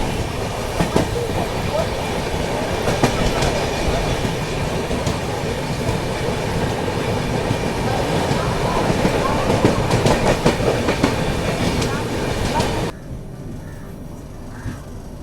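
A passenger train runs through Jolarpettai station in India, heard from the carriage door: loud continuous rumble and rattling clickety-clack of wheels and wind roar, cutting to a much quieter interior near the end.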